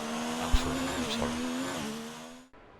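Sauber Formula 1 car engine in F1 2019 on a qualifying lap, a high whining tone climbing and dipping with shifts, loud and close, cutting off abruptly near the end.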